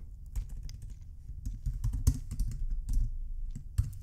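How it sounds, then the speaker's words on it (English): Typing on a computer keyboard while entering a formula into a spreadsheet: a steady run of close, crisp key clicks with uneven rhythm and a few louder taps, no voices. "let's just type in average growth"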